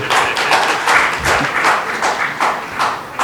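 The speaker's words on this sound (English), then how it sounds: "Please give a round of applause for all panel members." Conference audience at a Bombay Chamber governance conclave applauds the panel members, with loud, close clapping arriving in uneven rhythmic bursts for a few seconds.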